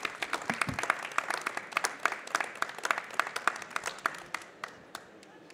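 An audience applauds the president at a town event in Troyes, with dense sustained clapping from many hands that rises quickly and then gradually thins and fades.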